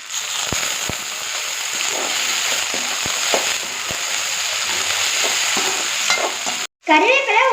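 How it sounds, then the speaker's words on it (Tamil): Shallots and garlic sauté in a pan for a village-style dried anchovy curry, with steady sizzling and occasional stirring clicks, up close and continuous; the frying cuts out abruptly near the end before a brief different sound. "வதக்கிக்கலாம்."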